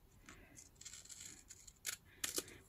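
Scissors cut a white paper strip off a handmade Christmas mini book, a few quiet snips and crisp paper sounds close by, with the last two cuts louder.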